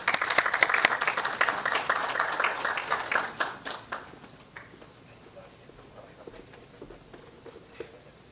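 An audience at a seminar on sustainable anchovy fishery governance claps loudly to welcome a speaker; dense applause for about three seconds fades into a few scattered claps and quiet room noise.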